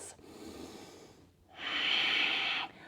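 Deep breathing through a yoga pose on a mat, close and audible: a slower breath fading out, a brief pause, then a strong, airy inhale lasting about a second.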